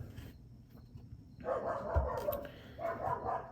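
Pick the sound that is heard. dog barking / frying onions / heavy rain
dog barking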